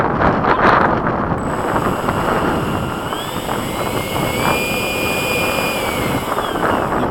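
An 80 mm 12-blade electric ducted fan held at steady throttle outdoors at a flying field produces a loud, continuous roaring whine with a high tone that drifts slightly, mixed with wind noise and no talking.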